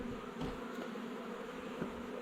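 Honey bees buzz softly and continuously around rescued comb and a nuc box after being taken from a storm-felled tree, a faint, even drone with a few individual bees passing nearer.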